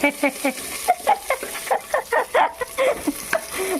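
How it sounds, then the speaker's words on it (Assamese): Onions and a piece of carrot fry in a pan with a close sizzle and a quick series of stirring scrapes, while short, voice-like pitched sounds repeat over the crackle. "পিঁয়াজ ভাজি আছে"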